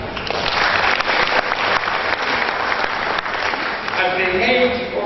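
An audience at a memorial lecture claps steadily for several seconds, a loud continuous patter of many hands, with voices rising near the end.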